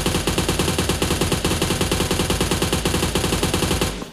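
PUBG Mobile automatic gunfire, one unbroken rapid burst of evenly spaced shots, loud and close, hammering for about four seconds before cutting off abruptly.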